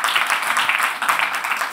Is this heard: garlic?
no